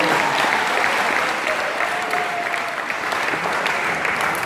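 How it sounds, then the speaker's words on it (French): Audience at a church teaching applauding and cheering loudly, a dense, steady wash of clapping filling the whole stretch with a few voices rising through it. "Si toi tu comprends, est-ce que tu peux acclamer très fort?"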